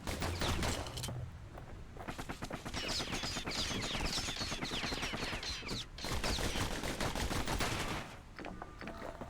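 Enemy pincushions in the action game Bastion fire volleys of spines, a dense, sustained barrage of rapid gunfire-like hits and impacts lasting several seconds under layered game effects, with no talking.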